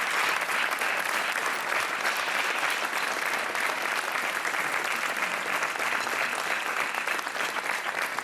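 Steady, dense studio-audience applause on a Portuguese TV game show set, loud and continuous with no break, many hands clapping at once.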